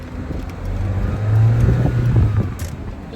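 A light 1995 MGF Roadster drives along with a steady low engine hum that briefly rises, mixed with wind buffeting and flapping noise around the open car, loud and continuous.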